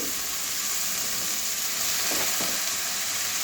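Washed cabbage and finely diced potatoes hitting hot spiced oil in a pan, giving a loud, steady sizzle and frying hiss with faint stirring scrapes.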